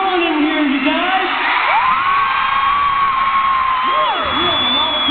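Large concert crowd at Nassau Coliseum cheering and whooping, a sustained loud roar of many voices with high shrieks rising and falling throughout, steady from start to end.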